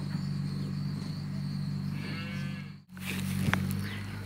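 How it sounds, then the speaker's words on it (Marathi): A cow, lying down and ruminating with her newborn calf nearby, moos in a long, low drawn-out call, close by, over a steady background hum, with a short break partway through. "हे वृंदा, आता गाय छानपैकी रवंत करते, बसली इथं."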